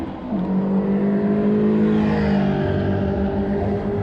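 Engines of Caterham 340 Roadsport race cars with 2-litre engines droning steadily in the distance at Magny-Cours circuit, a continuous rough hum with rising and falling pitch as they circulate.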